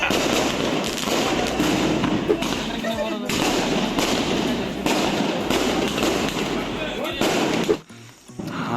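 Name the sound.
Diwali firecrackers exploding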